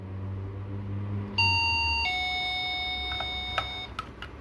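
An electronic doorbell plays a clear two-tone ding-dong chime, close and fairly loud over a low background hum, followed by a few soft clicks.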